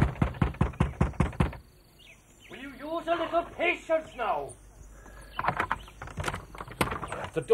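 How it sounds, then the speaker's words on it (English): A rapid series of heavy knocks and thuds hammers at a door, stops while voices speak, then resumes with further blows. "The door in splinters."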